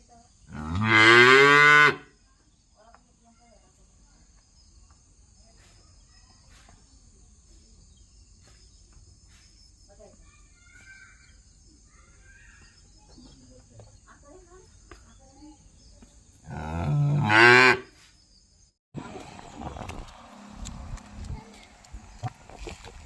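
A cow at a rural farm moos twice, long, loud and close, about fifteen seconds apart, while her calf is nearby. Insects chirp softly in the quiet between the calls, and scattered knocks and rustling follow at the end.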